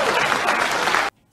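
A short burst of audience applause, dense and steady clapping that cuts off abruptly into silence.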